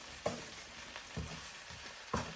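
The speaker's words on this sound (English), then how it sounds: "I'll use the long spoon just to kind of toss them about a little bit." Salt and pepper chips sizzling in a hot pan as they are tossed with a long spoon, a continuous frying hiss with a few soft scraping stirs at uneven intervals, no talk.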